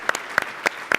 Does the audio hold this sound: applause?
yes